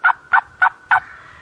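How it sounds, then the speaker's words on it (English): A wild turkey gobbler gobbles loudly and close, four quick rhythmic calls followed by a fading trailing tone, in South Carolina. "I see him just gobble, Kevin."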